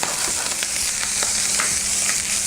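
Sliced green onions sizzling as they fry in a pan for chicken enchiladas, a loud, close, constant crackling hiss with small pops and no talking.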